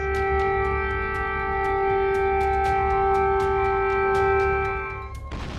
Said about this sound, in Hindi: नॉनस्टॉप गूंजती सायरन की आवाज